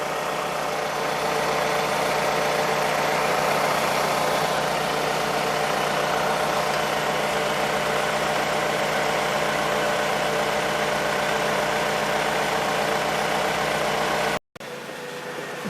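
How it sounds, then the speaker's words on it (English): A 2009 Pontiac Vibe GT 2.4 engine idling after an oil pan replacement: a steady, even mid-pitched hum, close and constant for about fourteen seconds before it cuts off abruptly, with no talk. "So after you have the vehicle running, just make sure there's no leaks"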